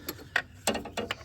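A ratchet turning a socket on a transmission bolt of a Chevy Cobalt gives a handful of quick, close metallic clicks in short bursts.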